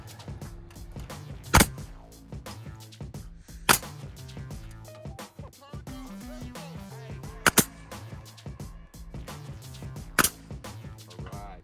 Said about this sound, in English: Couple more shots into this side, but this one's going into the post.